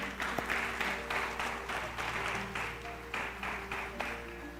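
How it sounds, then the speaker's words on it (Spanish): A church congregation claps together in rapid, steady rhythm, a dense sustained burst of many hands in a large room, with music tones underneath. "¿Le puedes dar palmas a Él hoy?"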